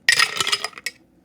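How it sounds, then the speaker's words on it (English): Small ice cubes clatter into a Collins glass, a quick cluster of bright, close clinks followed by one final clink, heard alone with no talk. "I'm just using little ice cubes for this."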